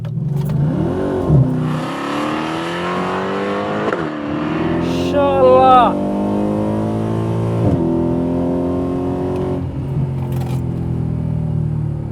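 Mercedes C63 AMG Black Series engine revving hard, a loud close rising wail climbing through the revs with brief drops between pulls, and a short exclamation from a voice partway through.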